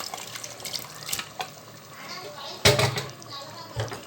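Cooked mutton is stirred into fried masala for biryani: a spoon scrapes and clatters in the pan over a soft sizzle, with a sharp knock partway through and a voice talking over it.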